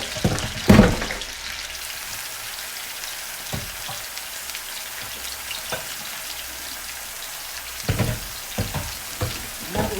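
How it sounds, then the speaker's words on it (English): Pork tenderloin sears in a hot pan with a steady broadband sizzle, broken by a loud clatter near the start and a few sharp knocks and scrapes of the pan later on; no voices are heard. "So we'll just sear these for a few minutes on each side"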